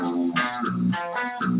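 A processed guitar plays the B section of a song, with sustained, effect-laden chordal notes shifting in pitch and bright swelling attacks in an uneven pulsing rhythm, continuous and fairly loud.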